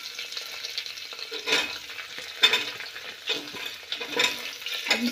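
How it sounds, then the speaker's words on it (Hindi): Potatoes and onions fry in hot oil and are stirred in a pan, a steady sizzle broken by scraping pushes of the spoon that come every second or so. "2 मिनट तक अच्छे से इसको चलाएंगे।"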